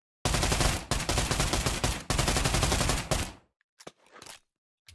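Mini AK rifle firing in the Pavlov VR shooter on a gun range: loud continuous full-auto bursts in three long strings, then a few faint mechanical clicks and handling noises.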